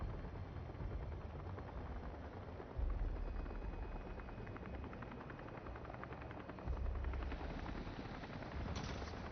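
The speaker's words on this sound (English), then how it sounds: "look at him attacking our helicopter." In the game Jurassic World Evolution 3, a big dinosaur attacks a helicopter, heard as a continuous dense rotor-and-engine rumble with rapid rattling bursts like gunfire, moderately loud and steady, with heavier low thuds swelling twice.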